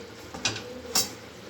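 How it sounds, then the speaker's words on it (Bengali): A metal wok is set down on a gas stove, giving two brief clanks about half a second apart over a faint background hum. "দেখুন বন্ধুরা, গ্যাসের মধ্যে কড়াইটা চাপিয়ে দেবো।"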